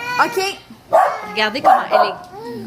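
A pet dog barks and yips in short bursts, fairly close and loud, mixed in with someone speaking French.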